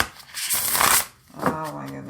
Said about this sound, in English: I love the way it shuffles